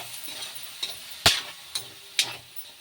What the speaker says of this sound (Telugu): ఈ సగ్గు బియ్యం కూడా వేసుకోవాలి వేసుకొని ఒక్కసారి కలుపుకుందాం